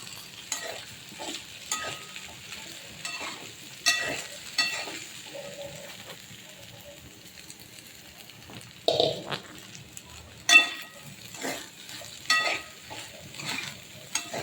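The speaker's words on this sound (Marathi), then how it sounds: "आता आपण याच्यामध्ये शाबू ॲड करायचं त्याला हलवून घ्यायचं आहे" Sabudana stirred in a pan with roasted green chillies for sabudana khichdi, with irregular spoon scrapes and soft sizzling, quieter in the middle and a few louder scrapes later, no talk.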